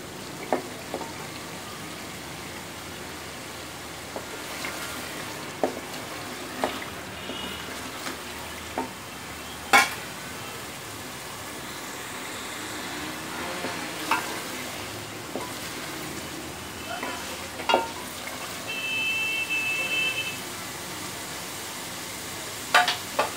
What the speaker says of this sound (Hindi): देखिए मसाला कितना अच्छा भून गया।